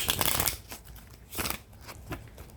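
Playing cards being shuffled in short riffling bursts, a dense rush at the start and brief flurries later, close and fairly quiet with no talk.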